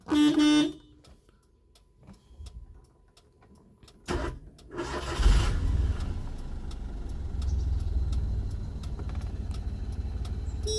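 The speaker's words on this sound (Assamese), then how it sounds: "একেটা চেল্ফতে ষ্টাৰ্ট লয়।" Maruti Alto K10 car started with its self-starter: a short cranking burst, a brief pause, then the engine catches and settles into a steady low idle, heard close with no talking.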